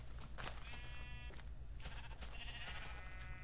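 Sheep bleating in a video game: a few wavering bleats rise and fall over a steady low background hum. No one speaks.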